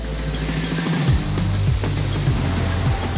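A pneumatic paint robot sprays an extra effect coat onto an Audi car body in a factory paint shop, giving a steady airy hiss with low mechanical tones that shift and step down, close and fairly loud.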